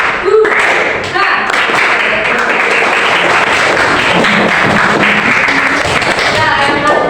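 Students in a classroom clap their hands in a loud, continuous patter of many overlapping claps that lasts throughout, with voices mixed in underneath.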